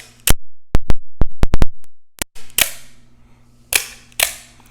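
A series of sharp mechanical snaps and clicks from a Microtech OTF knife blade deploying, with spring noise, some in quick clusters, followed by a few louder metallic clacks over a faint hum.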